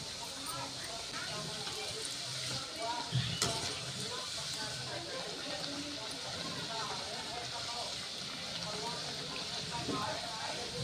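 Mathri pieces frying in hot oil, a steady close sizzle and crackle running throughout with a brief clink of a utensil midway and faint voices beneath.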